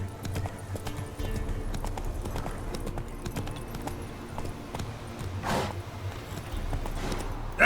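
Geralt's horse Roach gallops in The Witcher 3, a steady run of close, rhythmic hoofbeats on the ground with a brief louder burst of noise midway and no speech.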